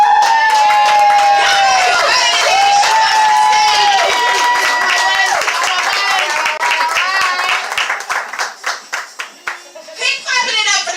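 An open mic poetry crowd claps and cheers as a performer walks to the stage, with loud whoops and whistles over rapid clapping that thins into separate claps toward the end, and music playing underneath.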